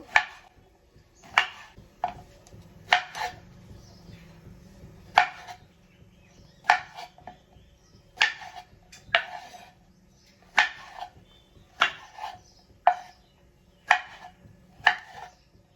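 A knife chops pointed gourd (potol) on a board in sharp, crisp strikes, about fourteen evenly spaced cuts close by with quiet pauses between them.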